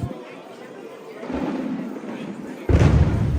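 Booming fireworks thump at Disneyland at night, a low rumble building and then a louder burst near the end, with crowd chatter around.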